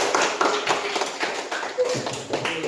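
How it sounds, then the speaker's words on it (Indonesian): A classroom group applauds together, with dense, steady clapping from many hands that carries on throughout, close and moderately loud, while voices murmur underneath. "Ya, tepuk tangan untuk kita semua."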